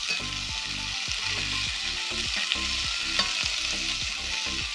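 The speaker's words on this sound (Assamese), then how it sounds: "অলপ সময়ৰ পিছত মাছখিনি একদম ভালকৈ লাহে লাহে উল্টাই দিছোঁ।" Small fish fry in oil in a hot kadai, a Hajong-style fish dish cooked with very little oil, giving a steady close sizzle and crackle throughout, with soft background music underneath.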